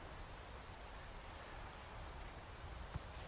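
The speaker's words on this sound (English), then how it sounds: "Quite literally, it's raining." Steady rain pours throughout a scene in the survival-horror game Resident Evil 4 Remake, a dense, even hiss with no talk over it and a brief soft thump near the end.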